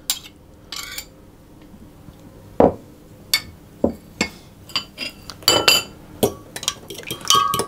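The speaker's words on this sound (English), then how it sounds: "now I'm going to just put my eggs into the milk and give them a stir around" Eggs being stirred into milk in a bowl while making scones: irregular, close, bright clinks and taps of a utensil against the bowl, with quiet pauses between, and no talking.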